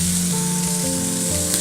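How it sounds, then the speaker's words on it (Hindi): Chicken mince frying with ground spices in a pan for samosa filling, a loud continuous sizzle up close with some steady tonal humming underneath and no talk. "इसे 1 से 2 मिनट मसालों के साथ भून लेंगे।"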